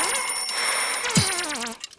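An alarm clock rings in the video game Chuchel, a bright chiming tone with sliding pitch lasting about two seconds, loud and close with no talk over it.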